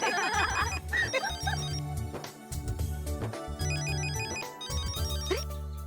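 A telephone ringtone plays repeatedly in a household scene from an Indian TV sitcom, a steady melodic electronic ring with bright repeated tones over a low background bed, loud and close.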